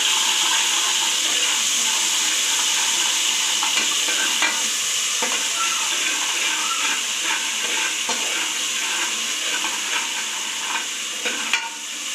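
Ginger garlic paste fries in hot oil, giving a steady, close sizzle with scattered sharp crackles and the scrape of stirring in the pan, unbroken by speech.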